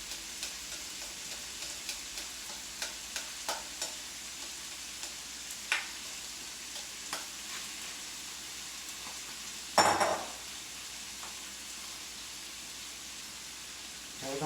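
Cauliflower rice sizzling steadily in a seafood and chicken paella pan, with soft clicks of a utensil stirring and scraping throughout and one louder scrape partway through, no talking.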